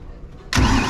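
A 1993 Prostar boat engine under restoration, run only briefly with no water hooked up: a quiet lull, then a sudden loud start about halfway through that settles into a full, steady close-up roar.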